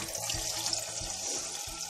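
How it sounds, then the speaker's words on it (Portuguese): Water pours steadily from a tap into a pressure cooker holding onion and celery for homemade beef broth, a continuous close splashing stream with no talk. "Vou colocar um pouquinho a mais de água"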